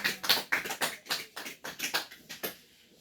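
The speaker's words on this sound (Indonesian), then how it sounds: "Oke, tepuk tangan." Pupils in an Indonesian classroom clap their hands together in a rhythmic series of about a dozen sharp, close claps that fade out toward the end.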